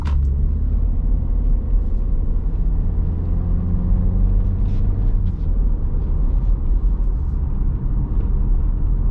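A 2021 Audi Q3 Premium driving on local roads, heard from inside the cabin as a steady, continuous low road and engine rumble with no talking.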